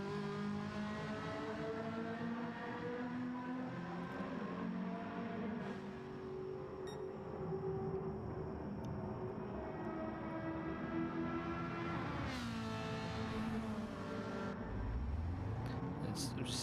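A race car in Gran Turismo 7 drives down the pit lane at the Nürburgring GP circuit, its engine a steady droning hum under continuous commentary, with a rising rev and passing whoosh near the end.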